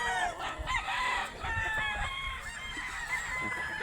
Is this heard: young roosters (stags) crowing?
yes